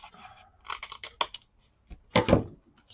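Scissors snip into a paper envelope being made into a flip journal, a short run of crisp close cuts followed by a louder, longer snip, with no talking.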